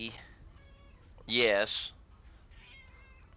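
A pet cat lets out one clear, drawn-out meow close by, with a quiet voice speaking briefly around it.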